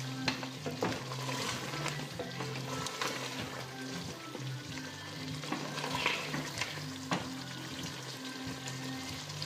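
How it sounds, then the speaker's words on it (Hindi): Butter melting and sizzling over full gas at the start of a restaurant-style meat curry: a steady sizzle with repeated stirring scrapes and clinks, close and fairly loud, with no talking. "फुल गैस पर इसे करेंगे 2-3 मिनट के लिए, तो ये बटर जब ये सारा मेल्ट हो जाएगा"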